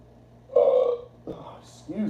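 A man burps loudly once after eating a large pizza, close to the microphone, followed by brief talk.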